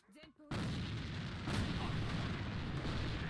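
A grenade going off in the shooter AVA, a sudden loud blast that follows a brief voice and then rolls on as a sustained roar of noise.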